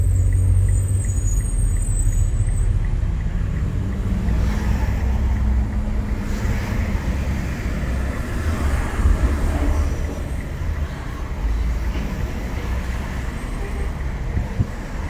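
A truck rolls past in Bronx street traffic, its loud, steady low rumble and road noise filling the scene close by without letup, with no talking.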